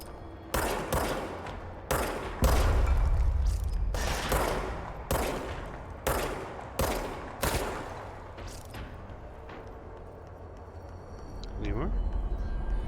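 Gunfire in the video game Control: a burst of loud, repeated broadband shots in an irregular rhythm over the first nine seconds, then a quieter stretch with faint rumble. A person talks over the action.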